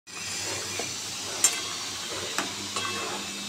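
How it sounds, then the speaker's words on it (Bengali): Pieces of fish fry in hot oil in a pan, giving a steady close sizzle with a few light clinks and stirring knocks over it. "মাছগুলো দিয়ে দিই একটা করে, এই দিয়ে দিলাম, এই দিয়ে দিলাম"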